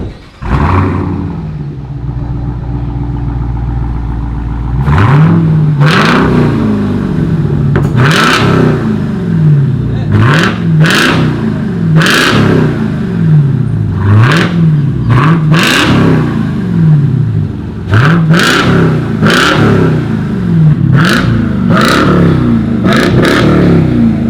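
A Jeep Trackhawk with a full exhaust, X-pipe and G-Packs starts up and idles loudly, then revs again and again in sharp bursts that rise and fall back, close by with no talking.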